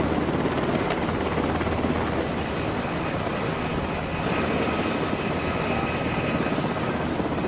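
Helicopter carrying refugees, a steady loud rotor chop and turbine roar filling the whole stretch, constant and close.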